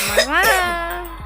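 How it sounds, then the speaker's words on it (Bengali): A short, harsh cough at close range, with a brief voiced, throaty edge. It comes as a single burst lasting about a second, alone, with no other talking. "আমার কাশি হচ্ছে।"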